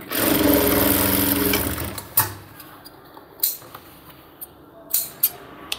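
Sewing machine running steadily while stitching a cargo half pant, a continuous whirring motor for about two seconds, then stopping, followed by scattered clicks and handling taps of fabric and parts.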